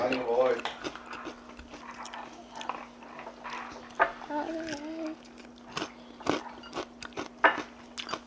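Crispy fried chicken with crunchy skin and rice cake is bitten and chewed up close, giving scattered crackly crunches among quiet eating sounds while people chat intermittently.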